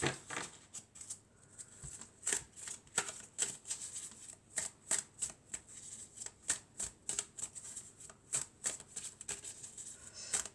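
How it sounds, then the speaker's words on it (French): Oracle cards being shuffled by hand close by, a quick, steady run of soft riffling flicks and taps that repeats throughout at low volume, with no talking. "on va prendre quelques cartes de mon oracle et on va voir ce que ça nous dit"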